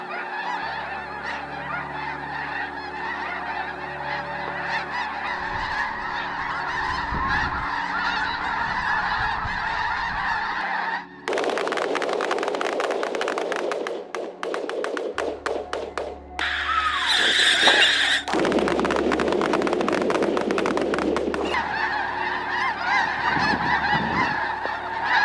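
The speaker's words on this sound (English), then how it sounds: "Millions of wild geese begin to migrate to the southern United States to avoid the cold." Wild geese honk in loud, overlapping calls as a large migrating flock passes, a steady chorus with bursts of denser clamor and a few brief swells of flapping or rushing noise.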